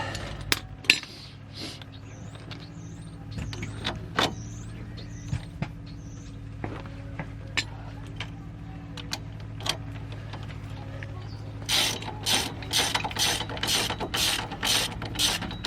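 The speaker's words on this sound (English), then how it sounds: "I don't tighten them all the way until I get all of them started" A hand ratchet clicks in quick runs while bolts are started on a car's wheel bearing hub assembly; the clicking is close, with scattered metallic knocks and a faster, louder burst of ratcheting near the end.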